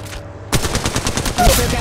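Automatic gunfire erupts during an Apex Legends Mobile battle royale match, a loud, rapid string of shots starting abruptly and continuing steadily to the end, with a brief game voice line mixed in.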